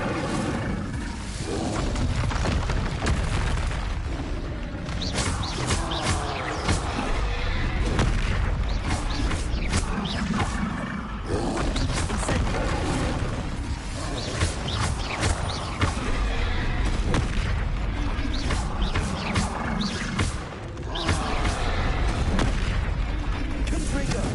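Spell blasts cast in the Hogwarts Legacy game, a continuous barrage of heavy booms and roaring bursts, loud and dense throughout with brief gaps between impacts.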